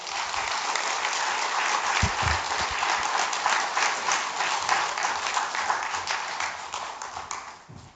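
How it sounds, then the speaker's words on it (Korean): A church congregation claps in welcome for a missionary at an afternoon worship service: loud, dense, continuous applause filling the room, then tapering off at the end. "우리 정종훈 선교사님 우리 박수로 환영하도록 하겠습니다"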